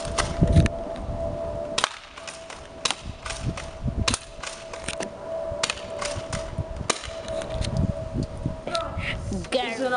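An airsoft gun fires a long series of sharp, snappy cap-like shots at irregular intervals, close and crisp, with faint mechanical clicks between them.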